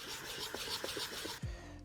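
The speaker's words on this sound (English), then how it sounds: "I don't want to keep sharpening on this 320 grit stone until I'm confident that it's flat again" Japanese plane blade sharpened on a 320 grit waterstone, making a close, gritty rubbing rasp in a few short back-and-forth strokes that ends with a brief thud.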